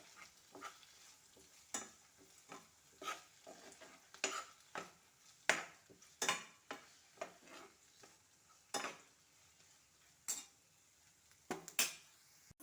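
Tomato and onions sautéing in a pan, heard as quiet, intermittent spatula scrapes and stirring strokes over a faint sizzle, with short gaps between strokes.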